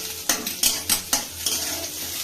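Tomatoes fry in a pan for a chicken momo filling, heard as a soft sizzle under several sharp clinks and scrapes of a utensil stirring against the pan, spaced irregularly and close up.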